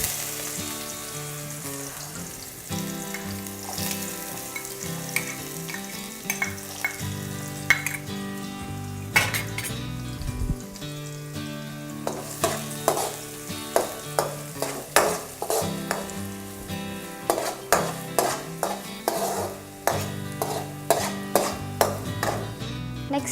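Onions sizzle and hiss in hot oil in a pan for Maggi masala noodles with chillies, with a spoon scraping and stirring in quick repeated strokes, loud and close, and no talking.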